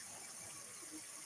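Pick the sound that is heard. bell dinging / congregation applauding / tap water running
tap water running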